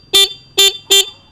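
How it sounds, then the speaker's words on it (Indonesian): The horn of a FIIDO Q1S electric scooter gives three short, loud, bright beeps in quick succession, close by and alone. "Jadi klakson vedok ini sudah memiliki dua fungsi. Fungsi alarm ya dan fungsi klakson."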